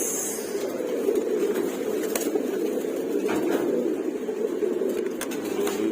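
Pigeons, including Maltese and Adana breeds, cooing in a steady low murmur from several birds at a dealer's sale, with occasional wing flutters and soft clicks over constant background noise.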